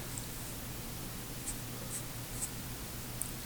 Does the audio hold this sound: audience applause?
no